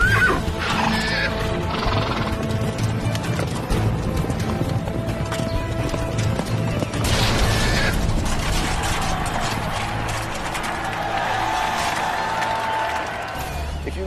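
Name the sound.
horses at a knights' joust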